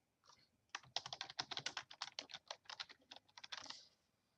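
Rapid keystrokes on a computer keyboard as an answer is typed into a quiz template, a steady run of close, crisp clicks lasting about three seconds with no voices.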